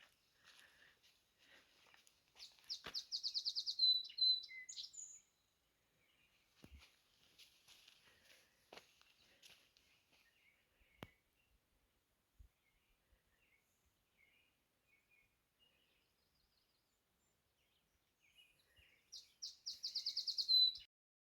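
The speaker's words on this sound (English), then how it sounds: "I'm hoping the song sparrow will sing for you. It's right beside me." A song sparrow sings close by outdoors on a sunny morning among trees, with a burst of bright trilling song near the start and another at the end, separated by quiet stretches with faint clicks and soft movement.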